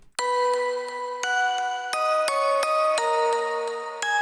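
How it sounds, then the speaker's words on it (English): Little synth bell in a chill melodic drum and bass track, a bright ringing tone struck in a steady series of about seven notes, clear and alone. "Nice little bell sound."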